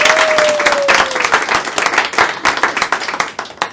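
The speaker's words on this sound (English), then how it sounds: "Big round of applause for Tracy Trinita." Studio audience at a live fashion-themed talk show giving a round of applause, dense close clapping that starts strong, then loosens into scattered individual claps as it fades.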